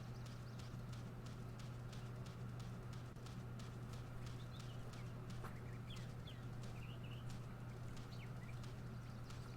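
Horse hooves clip-clop at a steady walking rhythm uphill in the video game Go Vacation, faint and even over a low hum, with occasional clucking fowl in the background.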